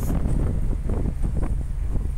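Strong wind gusting across an island coast in Taiwan, a loud, continuous low roar buffeting the microphone with rustling bursts throughout, no voices.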